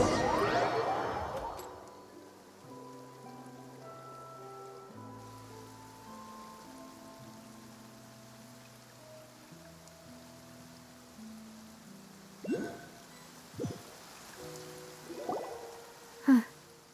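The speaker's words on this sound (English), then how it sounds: "It's been raining non-stop for a few days now." Steady rain falls in Fontaine in the video game Genshin Impact, a soft, faint hiss beneath gentle melodic music, with a few brief louder splashes or swishes near the end.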